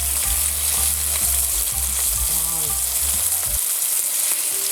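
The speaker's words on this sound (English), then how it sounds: "I sear salmon, skin down for 5 minutes" Salmon sears skin-down in a hot pan, a loud, steady crackling sizzle that fills the clip, with a few low clunks early on before the bottom drops away near the end.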